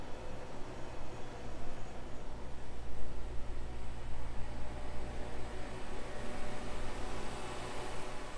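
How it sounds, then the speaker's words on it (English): Constant hiss and low hum of mass spectrometer instruments filling a university isotope lab, a steady, even broadband noise with no speech. "Maybe you can hear the white noise through our microphone"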